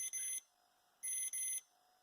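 A multimeter continuity beeper sounds while probing the connector pins of a Namco Arcade Classics plug-and-play TV game: two sharp, loud electronic tones, a short one and then a longer doubled one, with quiet gaps between.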